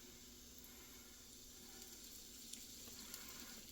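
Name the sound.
Yorkshire pudding batter sizzling in hot pans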